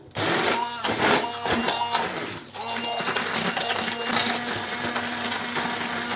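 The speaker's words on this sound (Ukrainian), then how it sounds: "І це ми перемішаємо або зібиваємо блендером." A blender whirs continuously up close, mixing a sour cream topping for a cheese and pumpkin casserole, its motor grinding steadily with a brief change in pitch partway through.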